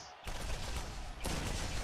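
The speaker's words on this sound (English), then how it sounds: "A lot of explosions from this one weapon" A shock weapon in the video game Borderlands fires and sets off a rapid burst of crackling explosions, loud and continuous with dense rattling bursts, a brief break, then another burst.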